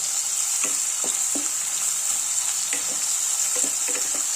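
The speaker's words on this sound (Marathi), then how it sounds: "आता एक कांदा घालायचा चिरलेला यात आणि हा चांगला परतू द्यायचा।" Chopped onion sautéing in a pan with bay leaf and cinnamon pieces for mutton keema, a loud even sizzle with scattered soft spatula taps and scrapes, close up and uninterrupted, no speech.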